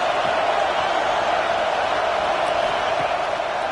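A video game football stadium crowd roars as a steady, dense wash of distant cheering from a tough home environment, constant and unbroken throughout, with no clear individual voices.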